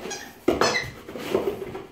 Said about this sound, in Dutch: Een tennisbal met een piepje.